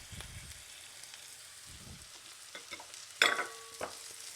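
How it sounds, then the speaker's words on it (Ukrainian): Frozen peas tumble into a frying pan of rice, giving a brief crackling sizzle with a sharp burst near the end, over low stirring and scraping sounds in a home kitchen. "Додаємо горошок заморожений."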